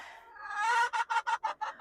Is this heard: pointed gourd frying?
no